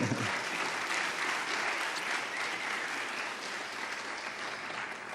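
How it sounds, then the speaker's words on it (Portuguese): An audience at a 2017 MedTalks medical talk applauds steadily and loudly, a dense, even wash of clapping that carries through without pause and no talking over it. "uma salva de palmas para ele"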